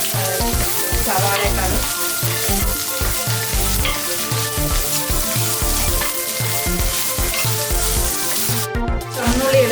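Chopped shallots sizzle and fry steadily in a hot pan for a buffalo curry with banana, loud and close with stirring scrapes throughout, while a voice speaks briefly over it.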